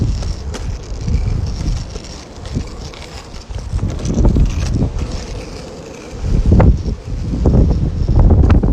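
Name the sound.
wind blowing while longboarding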